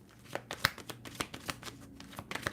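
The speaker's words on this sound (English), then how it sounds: "Let's shuffle up and see what else happens." An oracle card deck is shuffled by hand in a quick series of soft riffling and slapping bursts, uneven in rhythm and close, heard alone and fairly quiet.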